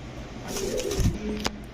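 Low pigeon coos over a murmuring background, with a soft flutter and a sharp click partway through.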